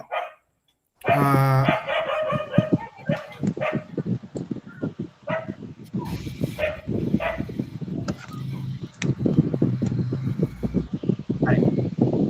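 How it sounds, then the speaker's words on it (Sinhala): Village dogs bark repeatedly in a busy, overlapping run of sharp yaps and barks that continues for several seconds, with a voice talking at times underneath. "අපේ ගමේ ඉන්න බල්ලෝ ටික ආයි ශබ්ද කරනවා හිතන්න එපා"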